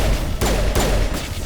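Two sharp, loud gunshot bursts ring out in the third-person shooter Mass Effect Legendary Edition, spaced under half a second apart over a dense, rumbling game soundscape.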